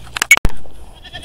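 Alpine goats on a farm give a few short, loud bleats close by in quick succession, then fall quiet, leaving faint background noise.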